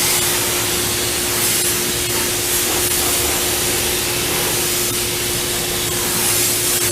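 Compressed air from a compressor blowing dirt off a motorcycle, a loud, steady, close hiss that holds constant throughout with a faint tonal hum underneath, no speech.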